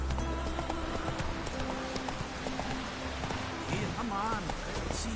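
Horse hooves clip-clopping at a steady rhythmic pace in The Witcher 3, with a brief neigh near the end, under game voices and music.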